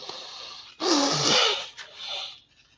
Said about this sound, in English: I'm starting to get a headache from all this sniffing and sneezing.